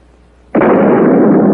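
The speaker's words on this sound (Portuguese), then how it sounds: "capaz de ouvir o troar de um canhão" A cannon fires with a sudden, very loud boom after a brief quiet, then a sustained, rumbling roar that holds to the end.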